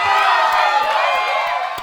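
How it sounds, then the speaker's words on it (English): Dense crowd applause and cheering from a live audience, loud and sustained for a couple of seconds with a few sharp claps and whoops poking through. "Let's give him another round of applause, people."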